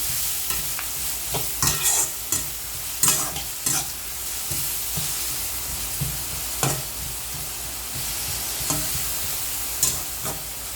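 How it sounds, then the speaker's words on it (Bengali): Onions fry with salt in a pan, giving a steady sizzle broken by repeated scraping stirs at irregular intervals, close and fairly loud, with no talking. "পেঁয়াজের মধ্যে লবণ দিলে ভাজা হইব তাড়াতাড়ি।"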